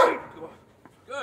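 A dog gives a short yip or whimper at the end of a brief moment, quiet under a person's excited voice that dominates the start.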